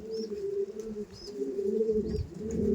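Pigeons coo in low, repeated throaty phrases close by, with a few high chirps from other birds over the top.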